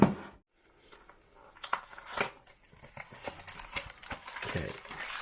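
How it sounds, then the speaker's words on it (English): A Spigen Rugged Armor phone case box for a OnePlus Nord 2 5G is opened nearby, with soft cardboard scrapes, rustles and light plastic crinkling building up after a short silent start. "So let's open the box and we'll see what this one's like."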